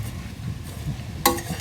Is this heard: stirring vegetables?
yes